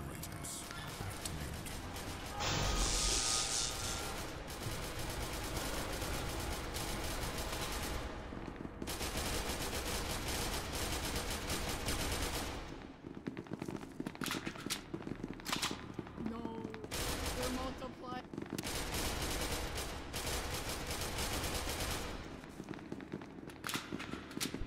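Rapid automatic gunfire in the SCP Secret Lab video game, dense sustained bursts with brief pauses and scattered footsteps, while players talk over the shooting.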